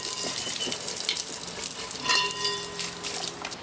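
Drilled wall cores are washed with water, an irregular close splashing and trickling with a brief louder gush midway.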